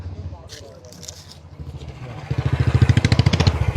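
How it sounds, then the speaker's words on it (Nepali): A motorcycle involved in a road accident is dragged along the ground with a rough scrape, then a steady pulsing engine-like rumble builds louder, while people talk over it nearby. "त्यो मोटरसाइकल यहाँ तानेर यता राखौँ"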